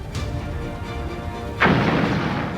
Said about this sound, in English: Explosions rock the giant ship.